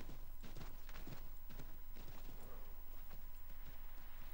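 Horse hooves clip-clop in a steady walking rhythm across a game world in Assassin's Creed 3, close and continuous over faint background ambience.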